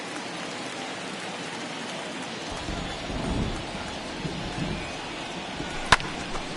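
Steady heavy rain hisses through a ballpark in the baseball video game MLB The Show 21, a dense even wash with a low rumble swelling midway and a sharp crack near the end.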